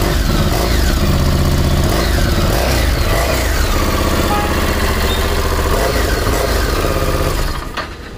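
A stock Harley-Davidson motorcycle engine, heard close, revs repeatedly over a lumpy idle. The loud throttle blips rise and fall, then the sound drops away near the end, with no talk.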